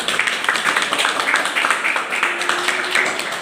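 Loud audience clapping at an RCM business marketing seminar in India, a steady dense round of applause from a crowd with a faint voice underneath.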